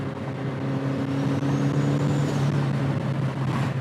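A turbocharged Mazda Miata NB drives uphill with its engine droning loud and steady inside the cabin. A thin, rising turbo whine spools up over the engine hum as it climbs, with no talking.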